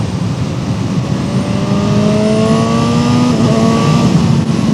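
Honda CB1000 Hornet SP naked motorcycle cruising on a highway in cold, wet weather, its engine a loud, smooth, steady drone with wind rush and a slight rise in pitch.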